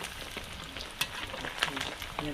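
Fish fries until crisp and golden in an outdoor backyard kitchen, a loud bubbling sizzle with crackles and occasional stirring taps, close by and with no talking.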